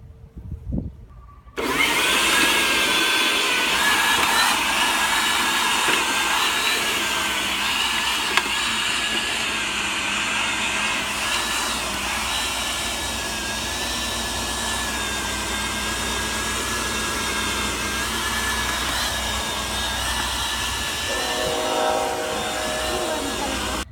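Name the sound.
Earthwise TC70001 electric corded tiller cultivator running in garden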